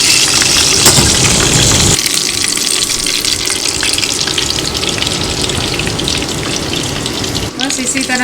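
Chicken wings fry in a pan of oil, a loud continuous sizzle that drops slightly partway through, with a brief clatter near the end and a faint voice in the background.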